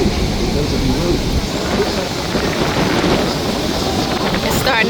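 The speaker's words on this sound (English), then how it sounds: "It's starting to get windy, very, very windy." Strong outdoor wind roars steadily and loudly across a campsite by a river in Canada, a dense gusting rush with microphone buffeting that never lets up, heard alone with no voices.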